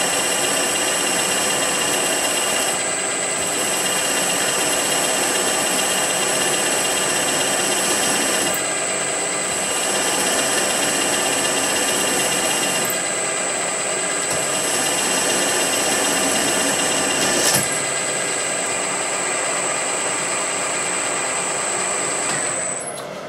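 A power drill bores through metal, stepping up drill sizes, giving a steady loud high-pitched whine with a constant tone throughout and brief dips where the bit pauses between passes.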